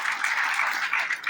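Audience clapping at a memorial-day yajna and lecture in a village hall in Kurad, Panipat, a steady, dense patter of many hands lasting about a second and a half, fairly close and without voices.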